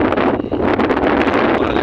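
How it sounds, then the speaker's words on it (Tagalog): Strong wind at a high lookout point in Malaysia buffets the microphone in a loud, continuous roar with gusty surges and no talk. "grabing hangin dito mga boss"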